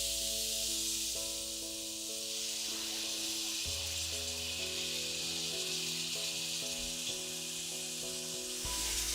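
Crème fraîche poured into a hot pan of leeks and scallops, giving a steady, close sizzle with a brief stir, heard over soft background music and no talking.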